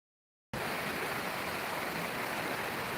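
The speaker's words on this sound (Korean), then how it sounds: "물소리가 좋지." Constant rushing water of a flowing stream, steady and full, starting suddenly after a brief silence with no voices.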